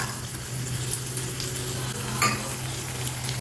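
Chana dal, urad dal, mustard seeds and torn onion pieces sizzle in hot oil for a tempering, with a steady loud frying hiss, a low hum and light scraping stirs, no voices.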